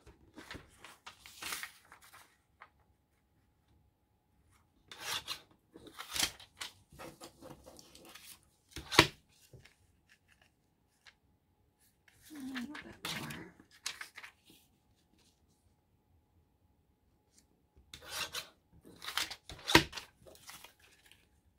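Library pockets being cut with scissors to make holders for garden ID tags, in short bursts of crisp paper snipping and rustling separated by pauses, with a voice talking quietly in between.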